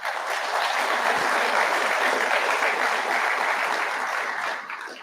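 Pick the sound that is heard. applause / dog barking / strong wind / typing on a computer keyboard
applause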